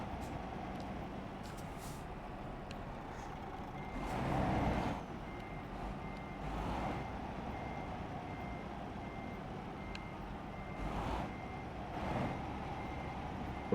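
A truck with a trailer reverses, its backup alarm sounding a faint repeating beep over a constant engine rumble, with occasional louder whooshes of air and no speech.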